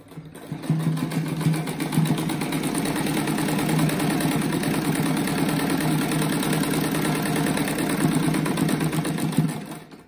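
A sewing machine runs steadily, stitching star-pattern rug squares together two at a time, its fast, even mechanical whir holding for nearly the full stretch with no voices over it.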